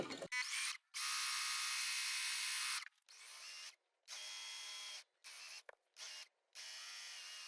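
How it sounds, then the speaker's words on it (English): A sewing machine stitching a quarter-inch straight seam along the long side of a tote, running in close, even bursts of motor whirr and needle chatter, separated by short pauses as the fabric is stopped and guided. "we're going to sew a 1/4 inch seam down 1 long side"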